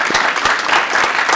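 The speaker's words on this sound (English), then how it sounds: "give yourselves a round of applause then" Dense audience applause fills a hall after a talk on George and Martha Washington, steady and close throughout with no voices over it.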